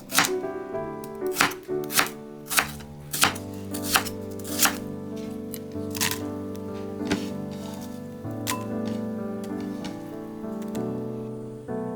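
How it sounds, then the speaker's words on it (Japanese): A knife thinly slices prepared rakkyo, Japanese shallots, on a cutting board: about a dozen crisp, close chops in an uneven rhythm, loud and near, with soft music playing underneath. "下処理したらっきょうを薄切りにします。"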